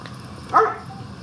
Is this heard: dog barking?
yes